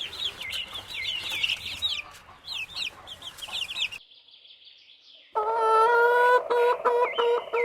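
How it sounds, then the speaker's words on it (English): A hen clucks in short repeated bursts, then a brief pause before a louder, sustained call rings out close by, clear and without talk. "hen,"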